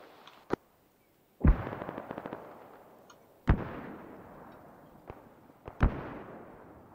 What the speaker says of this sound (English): Grenade out northeast.